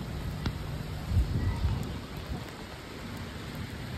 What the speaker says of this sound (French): Mais en tout cas là, il pleut de fou malade